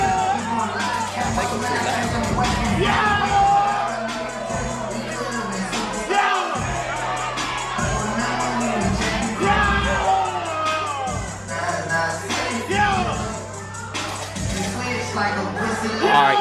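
A dance battle crowd at a jookin competition whoops, yells and cheers without letup, loud and close, with shouting voices piling over one another and a steady low beat running underneath.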